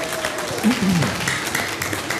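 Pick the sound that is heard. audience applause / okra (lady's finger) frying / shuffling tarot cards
audience applause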